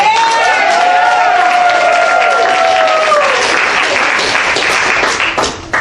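Loud, dense audience applause with whoops and cheers at the JesterZ improv student show, a sustained wall of clapping close up that tapers off near the end.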